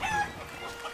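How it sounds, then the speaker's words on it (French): A hen clucks in the video game Baldo: The Guardian Owls, a short burst of close, bright clucking that fades slightly. "C'est encore la même poule."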